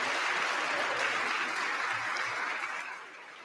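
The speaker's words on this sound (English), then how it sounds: "But look at them all clapping along." A crowd in the US Congress claps steadily in a dense, even burst of applause, tapering off slightly toward the end, with a faint chuckle among them.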